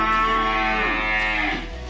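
A Limousin cross heifer lets out a loud, close moo, a sustained harmonic bellow that bends in pitch and fades near the end, with no talking over it.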